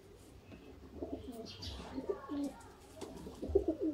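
Sialkoti pigeons cooing close by in soft, rolling repeated coos, with a few faint chirps and light background noise.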